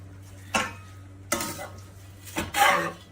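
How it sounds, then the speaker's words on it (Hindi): A spoon mixing freshly fried boondi in a metal vessel for motichoor ladoo, three distinct scraping, clanking stirs close by with short pauses between them. "इसमें डाल के इसको अच्छी तरह मिक्स करके इसी चम्मच से मैं कर लूँगी"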